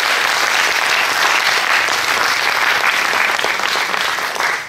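Loud, dense audience applause at an eloquence contest, a thick, continuous wash of clapping from a large crowd that holds steady and tapers slightly at the end.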